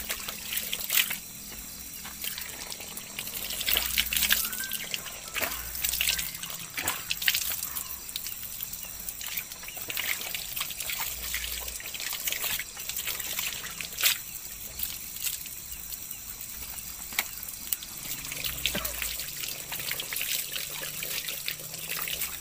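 Water trickles steadily from a spout at a sacred spring, a soft continuous flow with faint outdoor ambience and occasional small splashes, no voices.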